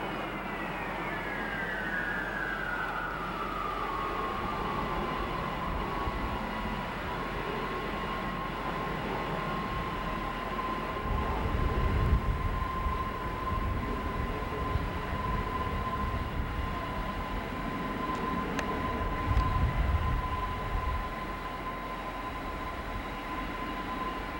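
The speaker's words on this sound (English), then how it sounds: "Philippine Airlines 747 just landing." A Philippine Airlines Boeing 747 lands at SFO in 1993: a distant jet roar carries a whine that falls steeply over several seconds, then holds at one pitch while the rumble continues.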